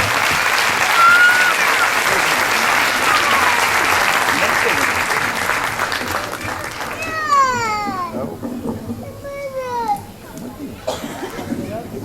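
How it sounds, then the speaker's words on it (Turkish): A concert audience at a Circassian music concert in Ankara claps in steady, loud applause. The clapping fades after several seconds, giving way to voices and light crowd sounds. "Alkışlarınızı tekrar"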